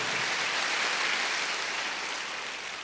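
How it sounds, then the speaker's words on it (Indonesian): A church congregation applauds for God during a worship service, a dense, loud wash of clapping from many hands that holds steady and tapers slightly at the end. "Kasih tepuk tangannya buat Tuhan kita yang paling meriah"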